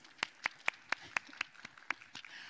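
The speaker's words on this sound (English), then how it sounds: "we clap after I introduce somebody, and we clap after the person is done" Conference audience at a landscape talks event clapping after a speaker's introduction, eight or nine distinct sharp claps at a steady rhythm, fairly faint and sparse, tailing off at the end.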